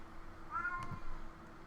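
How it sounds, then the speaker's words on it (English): A cat meows a few times in the background, briefly and not very loud, over faint room noise and a low hum. "that's my cat freaking out for no reason"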